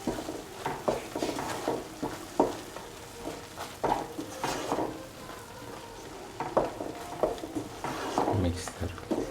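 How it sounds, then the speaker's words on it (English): Curry leaves sizzle and crackle in hot oil in a pan for a vegan dal fry, with steady frying hiss and repeated scraping stir strokes close up; no talking. "Now put in the curry leaves and mix."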